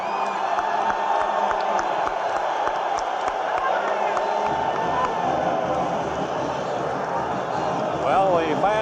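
A capacity crowd of 12,000 basketball fans roars and cheers at the Coliseum during an NCAA Elite Eight game between Kentucky and Notre Dame, a dense, steady wall of crowd noise with shouting swelling near the end.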